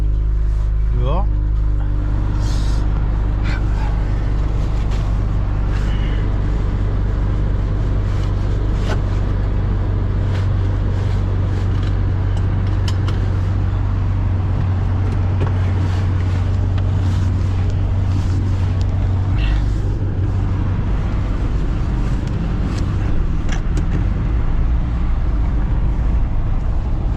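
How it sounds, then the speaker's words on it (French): A 1988 Volkswagen LT35 2.4D diesel tow truck with a holed exhaust drones at a steady, loud, low-pitched rumble from inside the cab, with wind noise and people talking over it. "L'échappement est percé."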